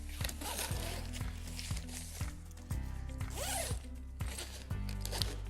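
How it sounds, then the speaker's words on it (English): A zipper on a tent-style canopy is pulled down repeatedly, giving a steady run of close, loud ratcheting zips with a regular rhythm and no talk over it. "I'll come over here and show you how this zippers down."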